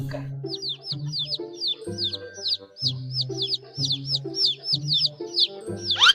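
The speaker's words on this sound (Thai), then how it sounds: "เสียงลูกไก่" Baby chicks peep in rapid, repeated high chirps over a steady clucking rhythm, close and busy, with no talking.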